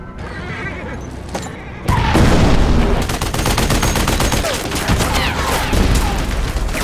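Bursts of rapid gunfire crack and rattle loudly after a quieter opening, with repeated shots and crashing impacts in a chaotic war-film battle scene involving Nazi soldiers.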